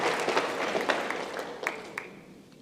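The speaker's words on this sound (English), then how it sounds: "Somebody wanted to clap." Brief scattered clapping from an audience at a university lecture, a few claps over a quiet room, fading out after a couple of seconds.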